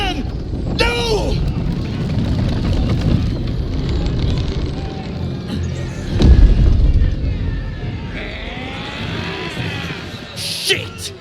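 Cannon fire in the fantasy video game Baldur's Gate 3: a heavy, booming blast about midway, set against continuous loud battle noise with shouting voices throughout and a sharp crack near the end.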